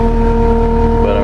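A Takeuchi TL12 skid steer engine runs at a steady, even idle, droning with a constant low hum and a faint whine, close and loud throughout.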